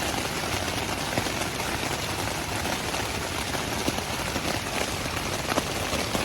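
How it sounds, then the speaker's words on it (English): Rain pattering steadily on a tent at a trailside campsite, a dense, even close-up patter with occasional louder drops and no voices. "It is raining."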